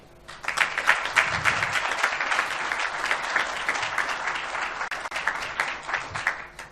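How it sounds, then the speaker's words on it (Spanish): Applause from an audience at a talk on innovation management, dense sustained clapping that stays loud and even for several seconds, with no speech over it. "dense un fuerte aplauso, por favor, un aplauso"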